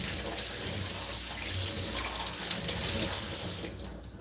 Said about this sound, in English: And I'm going to wash it off, rinse it off.